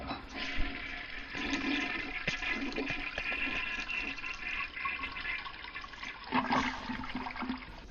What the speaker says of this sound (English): Toilet flush, exactly.